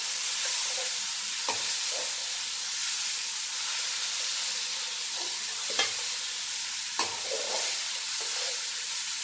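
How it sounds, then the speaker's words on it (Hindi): Camel meat being fried in a karahi with ginger-garlic paste, giving a steady soft sizzle with occasional stirring scrapes, close and moderately quiet with no talking. "अब इसे भी थोड़ा हम भून लेते हैं।"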